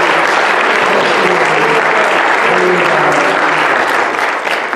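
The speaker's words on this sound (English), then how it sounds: "let's give him one more great big round of applause." A church congregation at a memorial service gives a loud, sustained round of applause, dense clapping throughout with a faint crowd murmur underneath.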